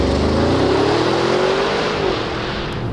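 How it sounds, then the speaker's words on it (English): A Bentley Bentayga accelerates hard in sport mode, its engine and exhaust rising in pitch as it revs up inside the cabin, loud and close, then easing off. "The exhaust sound has changed,"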